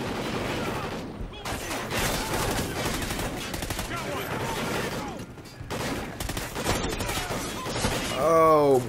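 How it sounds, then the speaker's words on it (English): Dense Call of Duty: Ghosts campaign gunfire, with sustained automatic bursts and heavy volleys that keep up throughout, and voices briefly heard near the end. "Taking heavy fire."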